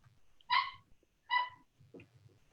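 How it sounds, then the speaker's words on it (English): Two short barks from a dog somewhere in the background, faint and distant, spaced under a second apart, followed by a weaker yelp. "I heard somebody's dog or something in the background."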